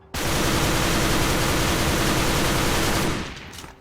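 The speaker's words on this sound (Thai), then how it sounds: "ซูมยิงแบบกดค้างนะฮะ" Close, loud sustained full-auto burst from a T91 airsoft gun held on the trigger, a dense continuous rattle for about three seconds that then cuts off with a short fading tail.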